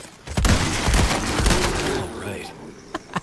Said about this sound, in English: Now, for the final and funnest test, some headshots with this rifle.